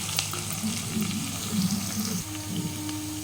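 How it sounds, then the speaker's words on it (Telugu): Onions frying in a pan while a chicken fry dish is cooked, a steady, close hiss of oil with a shift in tone near the end and no talk. "ఉల్లిగడ్డ వేయాలి కొంచెంగా వేయించుకుందాం"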